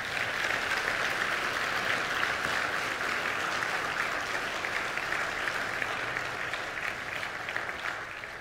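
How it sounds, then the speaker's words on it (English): A church congregation claps together in steady, dense applause that stays loud and even for several seconds, without talk. "I want you to celebrate Jesus with the clapping of your hands"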